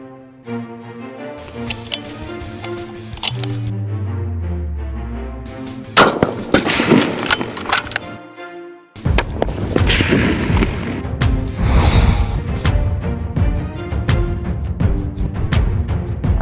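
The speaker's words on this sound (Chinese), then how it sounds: "接下来到了难度较高的乒乓球射击" Gunshots from a Chinese Armed Police special forces soldier firing at ping pong ball targets after a running drill: sharp, loud broadband bursts arrive in the second half over a bed of music.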